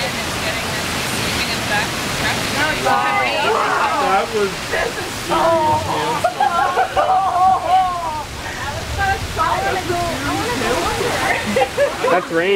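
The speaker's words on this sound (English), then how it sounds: "That's rain now." Heavy rain falls in a dense, steady wash right after a hailstorm, heard from under a tent, with excited voices speaking over the downpour.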